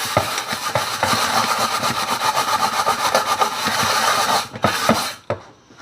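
Scrubbing residue from the bottom of a pan, a steady rough abrasive rubbing with rhythmic strokes, close and fairly loud, ending abruptly.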